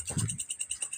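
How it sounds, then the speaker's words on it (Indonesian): Crickets chirp at night with repeated high, rapid pulses in a steady rhythm, close and fairly loud, over a brief low thump at the start. "Ternyata jangkrik, guys."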